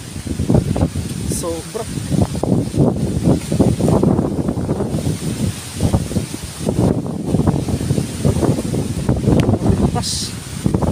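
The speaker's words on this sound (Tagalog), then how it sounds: "Grabe, lakas ng hangin." Strong monsoon wind driven by Typhoon Carina roars and buffets the microphone steadily throughout, with people talking and exclaiming over it nearby.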